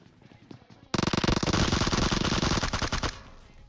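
Uzi gunfire in the PUBG video game rips out as one sustained automatic burst of about two seconds, loud and close, with rapid rattling shots that fade into a few trailing pops.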